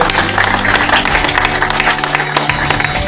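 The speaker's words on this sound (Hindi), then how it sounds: "एक बार जोरदार तालियां उनके लिए।" Audience clapping breaks out for a guest from Mumbai at an RCM business meeting, dense and steady for about three seconds, with a low hum running underneath.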